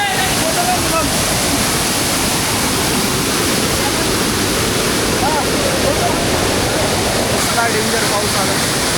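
Kondeshwar waterfall at Kamshet in the monsoon pours with a loud, unbroken roar that fills the whole stretch, dense and even from start to finish.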